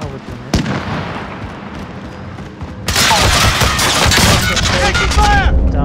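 Bursts of gunfire and explosions in Warzone, starting with a single sharp crack and then erupting into loud, continuous rapid shooting and booms mixed with voices talking.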